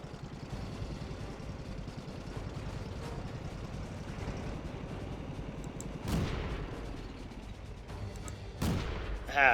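A Renault FT tank in World of Tanks idles with a steady rumble, then fires its gun twice, two sharp nearby blasts spaced a couple of seconds apart.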